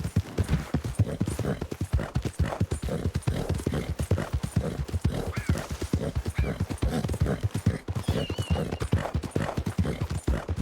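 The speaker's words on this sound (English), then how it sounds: "Get suspicious when you hear another horse." Steady, rhythmic clip-clop of horse hooves in Red Dead Redemption 2, a fast continuous gait sounding close and fairly loud throughout, with no talk over it.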